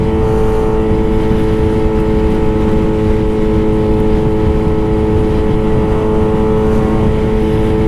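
Yamaha R6 600cc sport bike engine cruising on the highway at about 7,000 RPM, a loud, steady, high-pitched buzzing drone with constant harmonics and heavy wind rush, unbroken for the whole stretch.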